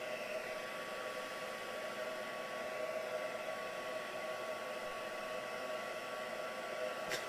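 Hair dryer drying a mixed media artwork, a faint, steady whirring blow with a constant motor hum that stays unchanged throughout, with a brief click near the end.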